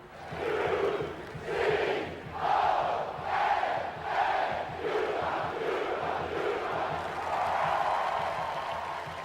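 A large crowd packs Tropicana Field for a UConn men's college basketball game, roaring in loud rhythmic bursts like a chant, one swell after another, then settling into a steady, dense roar.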